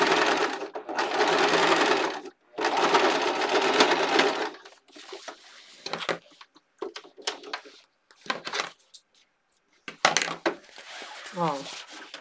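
A sewing machine stitches a fabric pencil case in several short bursts of whirring, separated by pauses with handling clatter and small clicks.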